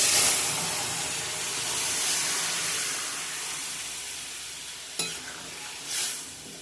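A ground paste and boiled taro curry for a Bengali fish dish drop into hot oil with a loud sizzling hiss that gradually fades, followed near the end by a couple of sharp stirring clinks and renewed spurts of frying.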